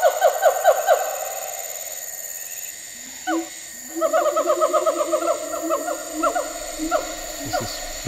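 A male siamang sings a loud territorial song: repeated rising whooping calls in quick rhythmic bursts, with pauses and a booming note between phrases, carrying clearly over a quiet forest background.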